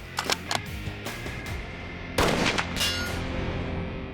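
A rifle shot fired for a bullet timing test at 200 yards: one loud, sharp crack that rings out and decays, preceded by a few lighter clicks and handling sounds.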